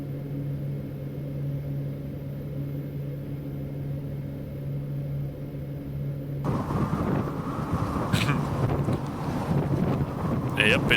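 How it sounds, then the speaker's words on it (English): Wind blows in the Prepar3D v4 flight simulator on a flight from Goose Bay, Canada to Narsarsuaq, Greenland: a steady engine-like hum first, then a loud, broad wind rush takes over abruptly partway through, with brief sharp noises. "Yep, it's windy."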